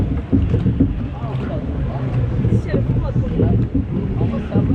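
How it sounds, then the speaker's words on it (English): Log flume ride boats moving through water at an amusement park, heard as a busy wash of splashing and churning water with wind buffeting and a crowd murmuring nearby. "Oh, here's our log flume."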